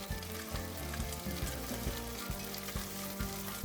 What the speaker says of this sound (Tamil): நல்லா வதக்கி விட்டுக்கோங்க இஞ்சி பூண்டு பேஸ்ட்டு